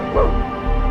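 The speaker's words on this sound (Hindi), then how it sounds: "सिर्फ चाय की केतली की सीटी और कभी कभार कुत्तों के भौंकने की आवाजें ही गूंज रही थी।" A single short dog bark rings out as a sound effect in a Hindi village story, close and fairly loud, over a low background hum.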